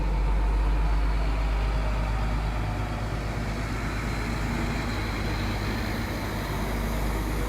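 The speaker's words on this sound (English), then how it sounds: "There's a big old truck coming, I think, here." A big truck rumbles steadily nearby on an island road, with a deep continuous engine drone and road noise holding loud throughout.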